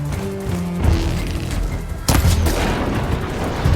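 A sudden loud blast in Horizon Forbidden West cuts through ongoing game noise and rumble, followed by a lingering thundering roll, close and heavy.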